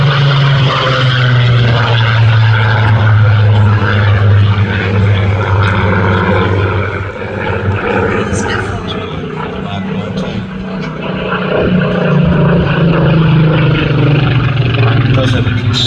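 A Spitfire propeller aircraft flies at a Midlands air display with a loud, continuous engine drone that swells, dips and rises again as it passes, while commentary plays over it.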